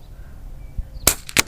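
A power-modded Air Venturi Alpha air rifle, run tethered, fires with a sharp, close crack, followed moments later by a second short snap, both standing out above a quiet background.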